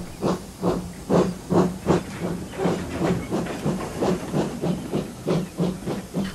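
A steam locomotive puffs away in a steady rhythm of about two chuffs per second, each beat a loud breathy burst of hissing steam, heard alone without talk.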